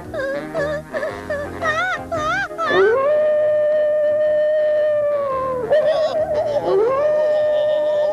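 A long, wavering howl rises and holds a steady pitch, preceded by quavering yips and followed by another drawn-out wail.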